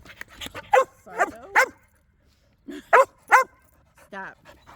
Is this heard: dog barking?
yes